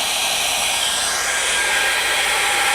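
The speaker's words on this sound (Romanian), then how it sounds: "O să opresc uscătorul totuși să ne auzim." A hair dryer runs steadily on an AllPowers R2500 V2 portable power station, a loud, continuous broadband whoosh of fan and airflow with no pauses or talk.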